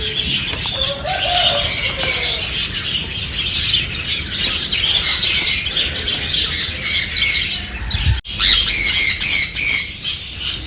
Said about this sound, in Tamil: பேர்ட்ஸ் கத்துற சத்தம்லாம் கேட்குது